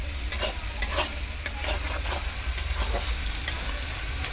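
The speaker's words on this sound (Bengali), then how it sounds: "পেঁয়াজটা একটু ভালো করে ভেজে নেব।" Chopped onions fry in a hot pan for a chicken-bone curry while being stirred, giving a steady close sizzle broken by repeated scraping strokes of the spoon.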